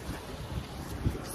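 Steady wind at Bridges Bay Resort, Arnolds Park, Iowa, in winter, buffets the microphone in a low, rumbling rush, with a couple of stronger gusts and no talk.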